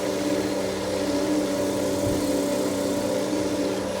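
A wood lathe spins at around 600 speed during finishing with Yorkshire grit, a constant, loud motor hum with steady tonal whine and no break.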